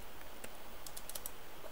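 Typing on a computer keyboard while entering web code: a few quick, light key taps against a steady hiss, brief and close, with no speech.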